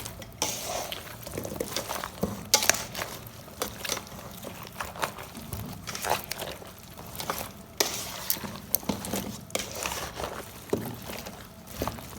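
Spices and water being stirred for a mutton güveç, with repeated scraping and clinking of a spoon against a pot in an irregular rhythm, fairly close, with no talk over it.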